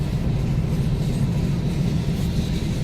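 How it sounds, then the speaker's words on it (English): A long train passes on a night drive near Crosby, Texas, sounding as a steady, loud low rumble with faint rail clatter. It holds unbroken throughout and nobody speaks. "That train is long. It's still going."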